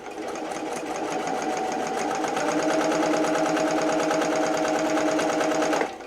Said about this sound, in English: So at that 1/4 of an inch, we're going to back stitch like 1 or 2 times.